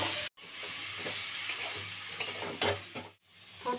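A boiled mixture is tipped into a hot pan and sizzles, a steady close frying hiss with occasional stirring clatter and two abrupt brief cutoffs.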